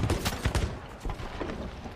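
Rapid bursts of cannon fire from ships in the pirate video game Sea of Thieves, several close heavy booms in quick succession at the start and then a steadier rumbling barrage, with no talk.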